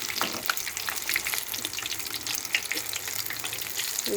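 Ridge gourd bajji fritters fry in hot oil with a dense, continuous bubbling sizzle and scattered crackles, close and steady throughout.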